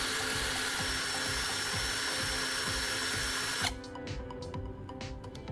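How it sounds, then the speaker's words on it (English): A power drill spins a key-metal core tip against sandpaper to sharpen it into a soldering tip, a loud continuous grinding whir that cuts off abruptly after about 3.7 seconds, leaving quieter scattered scrapes and clicks. "I turn on the drill and bring the tip of the core into contact with a piece of sandpaper"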